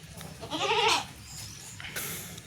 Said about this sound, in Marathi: आणि ह्या माझ्या ओरडणाऱ्या शेळ्या